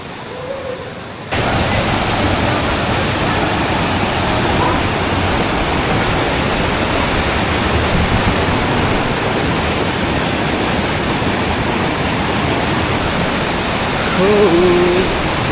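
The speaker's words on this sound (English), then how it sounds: "Lovely waterfall." A waterfall on a jungle hike near Baler in the Philippines roars as a steady, dense broadband rush of falling water. It holds nearly unbroken and close throughout, with faint voices barely audible underneath.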